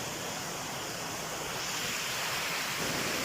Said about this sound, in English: This is a waterfall with a height of more than 10 meters.